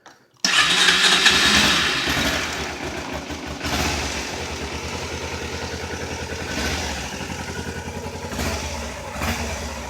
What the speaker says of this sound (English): let me squeeze in the clutch here and we'll start her up